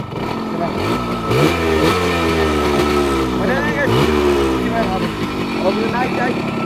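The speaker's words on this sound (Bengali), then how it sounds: "এটা বাইকেরই শব্দ" A motorcycle engine revs up and down repeatedly nearby, its pitch rising and falling in a series of throttle bursts with a low idling rumble underneath.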